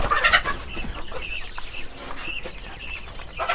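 Caged quails kept for egg laying cluck and chirp close by in short, busy bursts, with a brief louder flurry at the start and near the end.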